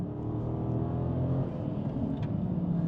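A Dodge muscle car, a 2026 Sixpack or 2021 Scat Pack with a 6.4 V8 on the list, holds a steady, dense engine roar close by, with its tyres spinning throughout the launch.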